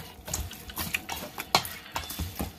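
Seasoned oxtail meat being mixed by hand in a bowl with black pepper, giving close, irregular wet squelches and soft clatters in uneven bursts with no talking.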